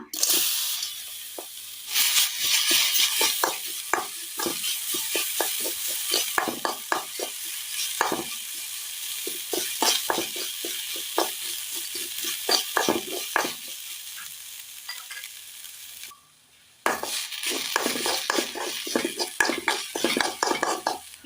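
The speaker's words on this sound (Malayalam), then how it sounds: "മുട്ട പൊരിച്ചെടുത്ത ചട്ടിയിലേക്ക് തന്നെ നമുക്ക് തേങ്ങ ഇട്ട് കൊടുക്കാം." Grated coconut sizzles and hisses steadily in a pan still greasy from frying eggs, with frequent scraping and stirring clatters against the metal; one brief pause breaks the loud, close frying.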